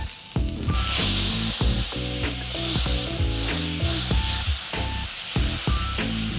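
Burger meat sizzles loudly on a smoking-hot pan, a dense continuous hiss and crackle close by, with a brief quieter moment just before it starts.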